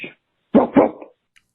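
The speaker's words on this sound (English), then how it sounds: "I wasn't waiting for the bark at the end" A dog gives two quick barks close by, followed by a faint short yelp, with quiet around them.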